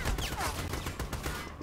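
Gunfire in the Army of Two video game, a quick string of rapid automatic shots close and loud, densely packed in a short burst.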